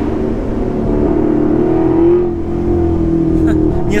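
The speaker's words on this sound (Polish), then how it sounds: "Dźwięk wydechu." A high-performance car's exhaust revs up, a loud, close, steady engine drone whose pitch climbs and holds, then eases off and settles lower near the end, with some faint high-pitched clicks at the close.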